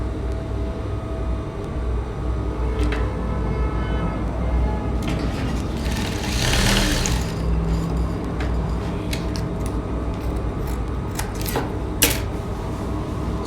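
A sewing machine stitches a suit sleeve to the bodice, a continuous loud mechanical rattle with faint clicks and a brief louder surge midway, with no talk.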